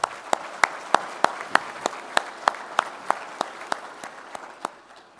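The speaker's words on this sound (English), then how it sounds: "Ian, Kathy, and Tom, I just want to give you all a big round of applause." Applause at a Colorado real estate challenge night comes as a sparse series of sharp, evenly spaced claps, about sixteen distinct hits over five seconds, fairly quiet with a thin wash behind them.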